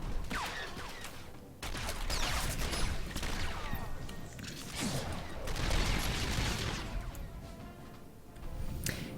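Rapid bursts of sniper and blaster fire crack through a chaotic firefight in Star Wars: The Old Republic, with impacts and clatter layered densely and continuously at close range, no voices.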